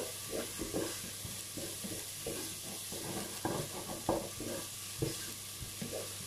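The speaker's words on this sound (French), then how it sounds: "Et je fais revenir mes oignons. Qu'ils soient dorés un petit peu." Onions sautéing in a pan until lightly golden, a steady soft sizzle with repeated scraping stirs of a utensil at an uneven rhythm, close and fairly quiet, no voices.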